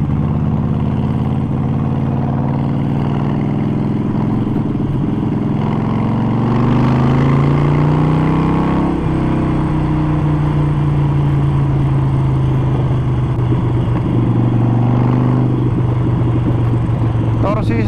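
A Harley-Davidson Sportster 48 with a Vance & Hines exhaust rumbles loudly at close range with a deep, steady idle. Its engine revs up midway, drops back, and keeps grumbling throughout.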